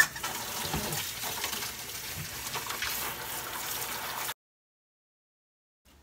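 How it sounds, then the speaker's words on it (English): Water runs from a tap into a large bucket that holds Kenworth W900 truck parts and a little dish soap. A steady, close splashing rush lasts about four seconds, then stops abruptly. "fill it up with water and let it sit"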